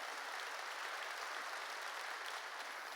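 A church congregation claps together during a New Year's Eve service sermon, a continuous even wash of many hands, moderately distant and without talk.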